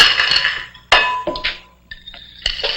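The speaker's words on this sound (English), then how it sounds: "in that jar, you mix all these together. Some stones and gravel." Stones and gravel clinking and rattling inside a glass jar as they are mixed, a string of sharp, bright knocks and clinks up close.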